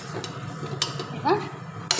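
Potatoes tipped into a pot of vegetarian biryani and stirred, giving scattered scraping and clinking of a spoon against metal, with a few soft knocks and a brief sharp clatter at the end.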